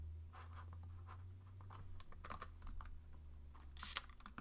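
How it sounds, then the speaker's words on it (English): Quiet clicks on a Mac keyboard, tapping a shortcut in short scattered strokes, close and soft against a low background hum, with no talking. "I'm just hitting, by the way, Command-Shift-K to knit. It's a keyboard shortcut on a Mac to knit."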